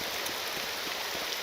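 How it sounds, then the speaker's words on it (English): Steady rain falls in the video game Morrowind, a continuous hiss of drops on a surface with faint patters throughout, no voices. "other than the fact it's raining"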